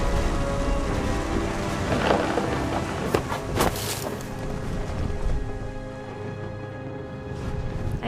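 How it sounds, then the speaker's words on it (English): Thunderstorm with heavy rain in the video game What Remains of Edith Finch: a steady, dense hiss of rainfall runs throughout, with a few louder rumbling bursts of thunder swelling and fading in the middle. "The thunder sounded much too close and full of angry power."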